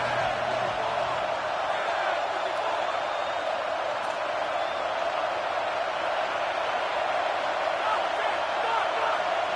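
A home crowd roars in a college football video game during a Michigan versus USC matchup, a steady, loud wall of stadium cheering sustained on third down, with faint commentary underneath.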